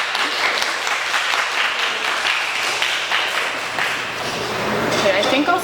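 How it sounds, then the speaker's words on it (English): An audience outside a paramedic station applauds the paramedics with a steady, crackling round of clapping, some voices mixed in and a bright tonal ping near the end. "Can we give them a round of applause for showing us their ambulance?"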